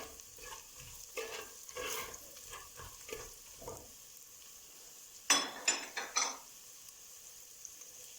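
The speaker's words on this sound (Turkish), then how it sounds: "biberler, havuçlar ve soğanlar bayağı bir kavruldu. Sırada kereviz sapları. Onları da katıyoruz." Celery stalks go into a pan where peppers, carrots and onions are already sautéing: soft sizzle under a run of scraping stirs, then a louder cluster of clattering pan and utensil knocks before the sound settles into a quiet fry.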